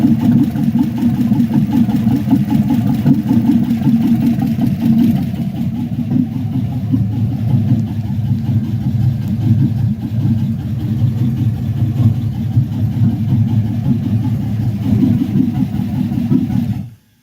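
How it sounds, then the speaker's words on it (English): A truck engine with no exhaust fitted runs in a garage, a loud, rough, throbbing idle with a steady low rumble that holds for the whole stretch before cutting off abruptly at the end. "it's running pretty good. It's just loud as hell, so I don't have no exhaust on."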